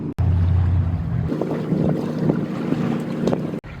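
A sailboat under sail alone, engine off, in about 10 knots of wind at 4.5 to 4.8 knots: steady loud wind rush and hull water noise with small slaps from the waves, continuous and close, with no voices.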